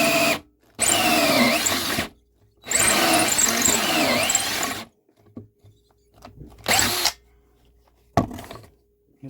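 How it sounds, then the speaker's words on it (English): A power drill whirs in several loud bursts separated by short pauses, with faint knocks in the quiet gaps. "I must remember to lift the drill up occasionally"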